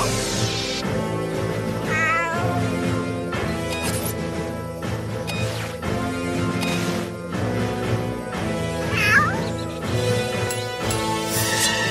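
A cartoon cat meows and yowls amid a busy, loud mix of music and crashing sound effects.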